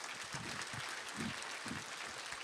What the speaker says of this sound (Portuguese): Uma salva de palmas, viva Luiz Renato Ribas Silva!